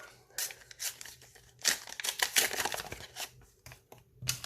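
A McDonald's 2022 Pokémon booster pack being torn open by hand, crisp bursts of foil tearing and crinkling wrapper close by, several quick rips separated by short pauses.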